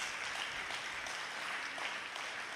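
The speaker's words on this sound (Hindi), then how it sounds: "आप सबकी तालियों की गड़गड़ाहट नहीं रुकनी चाहिए, है ना?" A hall audience at a Raja-yoga talk claps continuously in a thick, even wash of applause. It is moderately quiet and sounds somewhat distant, with no voices rising above it.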